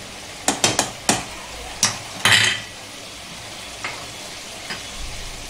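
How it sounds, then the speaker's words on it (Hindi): Chicken frying with spices in a kadhai for Sindhi biryani: a quick run of sharp spatula scrapes and metal clinks up close, then sparser, softer strokes over a faint background sizzle, with no talking. "अभी चिकन को अच्छे से भूनेंगे इसमें।"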